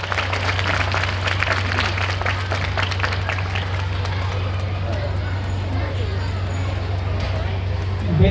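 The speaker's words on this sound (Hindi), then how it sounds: "अपने सभी मार्गदर्शक और शिक्षक के लिए ताली बजाइए" A school audience claps steadily for the principal and teachers, dense continuous applause with crowd murmur over a constant low hum, sustained at even loudness throughout.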